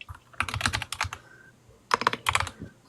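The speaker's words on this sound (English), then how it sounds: "Sorry for the typing." Fast clattering keystrokes on a computer keyboard come in two bursts with a short pause between them, close and fairly loud, with no voices.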